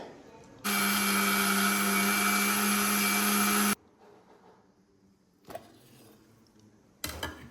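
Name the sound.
mixer grinder grinding spice paste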